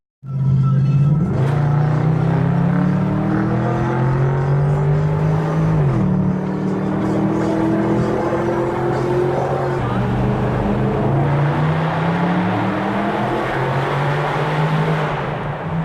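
A 4.4 litre naturally aspirated V8 in a cruiser-type car rumbles loudly and close, its pitch rising and falling through several revs over a steady deep idle for the whole stretch.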